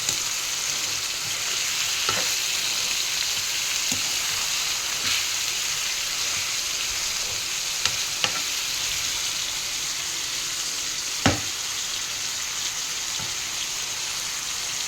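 Chopped onions frying toward golden brown for mutton kheema, a dense continuous sizzle with scattered sharp clicks and taps of stirring, steady and close for the whole stretch with no voices.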